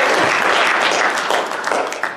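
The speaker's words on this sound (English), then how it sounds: "So can we give Scott a round of applause quick" An audience at a Sawyer County winter fisheries forum gives a short, brisk burst of applause, dense and fairly loud, tapering slightly at the end.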